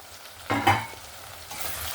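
Onions frying in a pan for a Bengali chicken curry with potatoes, a low sizzle with a louder burst of stirring and scraping near the middle, then a steady, quieter crackle.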